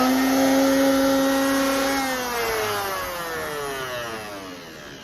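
A Ligna timber framing power tool shaving a dovetail into a wooden beam: a loud, steady motor whine that drops in pitch as it bites into the wood, then gradually winds down.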